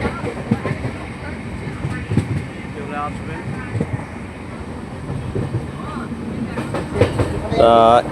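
A moving train rattles and clatters steadily over the rails near Joychandi hill in Purulia, with rumbling wagon noise, rhythmic clacks and wind buffeting, plus a brief tonal squeal near the end.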